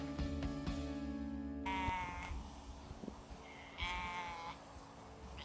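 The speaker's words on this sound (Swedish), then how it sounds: "Får bräker. De bräkte." Sheep bleat twice, wavering calls spaced a couple of seconds apart, in Viby village, Sigtuna, Sweden, after a stretch of low droning and clattering background noise.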